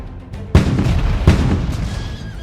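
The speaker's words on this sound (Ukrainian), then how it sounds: "Почалася артилерійська дуель." Two heavy booms of cannon fire about a second apart, each with a rumbling, echoing tail, loud and close.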